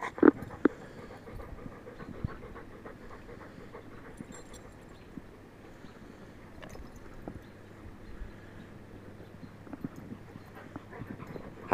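A dog pants steadily and close by in a home, with quick rhythmic breaths running through the whole clip. Light shuffling and small knocks are mixed in.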